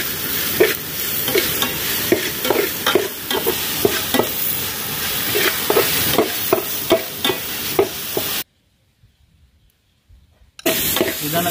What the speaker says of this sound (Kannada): ಇದನ್ನು ಚೆನ್ನಾಗಿ ಹುರಿತಾ ಇದ್ದೇನೆ